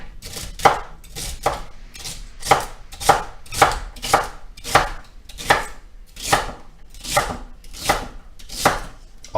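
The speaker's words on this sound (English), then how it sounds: "the beautiful thing about a great knife is you can just stack things together and start chopping" A knife chops food on a cutting board in about fourteen evenly spaced, crisp thuds, close and loud, alone without any voices.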